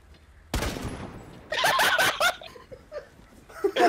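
Sharp bursts of video-game gunfire, one hit followed by a rapid cluster of shots, loud and close, with players' laughter and voices in between.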